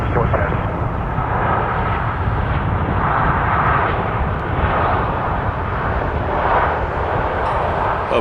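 A Boeing 737 on short final landing on runway 24 right at Toronto Pearson, a loud continuous engine roar and broadband rumble filling the whole stretch, with radio talk mixed in.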